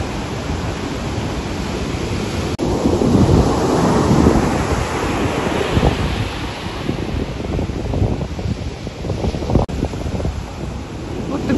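Stormy Black Sea surf pounds the Odessa coast, a loud continuous roar of breaking waves with gusting wind buffeting the microphone and a swell in intensity partway through.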